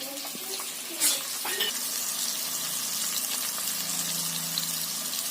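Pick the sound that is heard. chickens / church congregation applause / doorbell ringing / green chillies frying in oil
green chillies frying in oil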